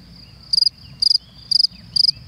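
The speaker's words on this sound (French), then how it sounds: "le grillon utilise la cavité de son terrier comme caisse de résonance pour amplifier son chant" A field cricket sings from its burrow in four evenly spaced chirps, each a rapid pulse train of shrill notes, close and clear over faint background noise.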